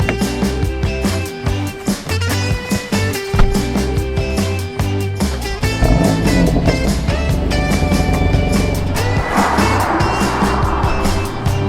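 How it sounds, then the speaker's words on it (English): A BMW M2 Competition is driven, with a loud steady engine and road drone that runs throughout under music-like tonal layers and grows rougher toward the end, without speech. "I'm so excited to be driving this car."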